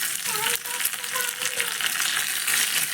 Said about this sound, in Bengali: সর্ষেটা যখন এইভাবে একটু হালকা ভাজা হয়ে যাবে, তারপরে এর মধ্যে এখানে দিয়ে দিতে হবে কয়েকটা কারি পাতা